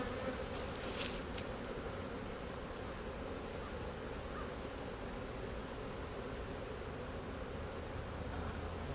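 Dense, steady buzzing of many honeybees around an open hive being split, with pollen frames and brood frames exposed, holding an even level throughout with no one talking.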